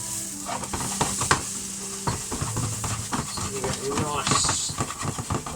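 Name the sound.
noodles frying and being stirred in a pan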